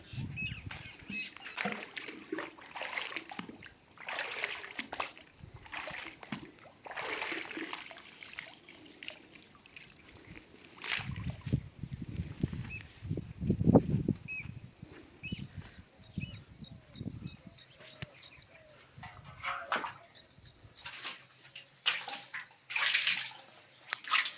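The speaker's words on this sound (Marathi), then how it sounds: "कळशीला शिकाळी बनवली आणि त्याने शेंदून पाणी काढायचे" Water is drawn from a village well with a metal pitcher hung on a rope sling, giving faint, irregular splashes, sloshes and trickles that come and go over a long stretch.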